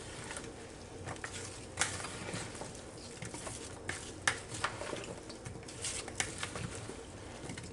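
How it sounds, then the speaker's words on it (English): Fruit salad of watermelon chunks, red and green grapes and kiwi being stirred in a bowl, giving soft wet pattering and scattered clinks of a utensil against the dish, fairly quiet and irregular, with no talking. "Mix it all up."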